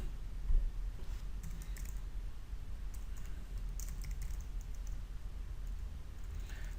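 Typing on a computer keyboard while creating a new file, soft continuous key clicks under a faint background hum.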